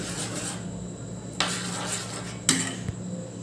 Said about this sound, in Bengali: প্রথমে দেখো কালো জিরা আর মেথিটা দিয়ে দেবো দিয়ে একটু নাড়িয়ে নেব ওটাকে